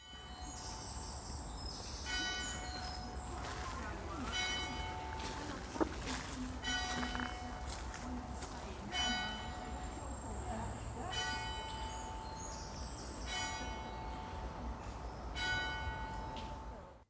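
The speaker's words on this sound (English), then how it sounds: "So have a listen to the bell." A large abbey bell tolls repeatedly in slow, steady strikes, its ringing overtones hanging in the air over a low background rumble, at Quarr Abbey on the Isle of Wight.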